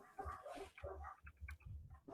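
Dogs indoors give a series of short barks and yips, several quick bursts close by, with no talk over them.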